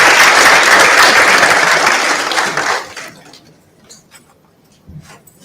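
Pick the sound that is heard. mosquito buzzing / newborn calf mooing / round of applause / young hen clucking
round of applause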